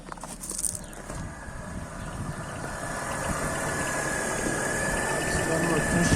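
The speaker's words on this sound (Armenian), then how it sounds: "այժմ գործի գցենք շարժիչը։" A BMW E39 petrol engine, just fitted with a replacement fuel pump, starts and settles into a steady idle, its rumble growing slightly louder and holding close by.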